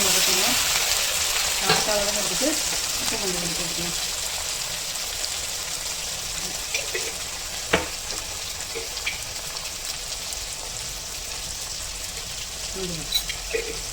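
Tomatoes and green chillies sauté in a pan as a steady, close sizzle, with soft stirring scrapes now and then and a speaking voice over it.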